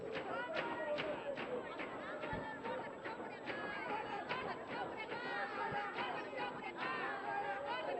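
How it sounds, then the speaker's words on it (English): Supporters of a girls' team at an under-20 bronze medal football match between Angola and Zambia cheer and chatter as a continuous crowd babble with scattered shouts, heard alongside a nearby voice speaking. "that are really making noise, cheering for their team"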